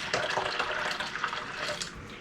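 Starchy potato water is poured into a bowl in a kitchen, giving a steady splashing liquid pour that runs the full couple of seconds at close range with no talk over it.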